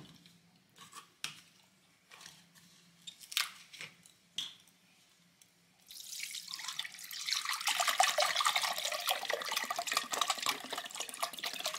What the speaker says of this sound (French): Voilà, donc on met toujours le litre de lait.